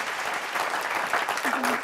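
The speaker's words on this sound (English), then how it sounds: "how about a round of applause for Mr. Gallups?" Studio audience applauding a guest on a television talk show, a steady, dense wash of clapping from a crowd that keeps up without pause for a couple of seconds.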